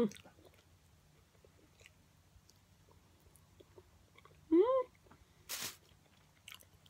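Dried persimmon being chewed: quiet, soft wet mouth sounds and small crunches close to the mic, with a couple of brief louder bursts and faint vocal sounds in between.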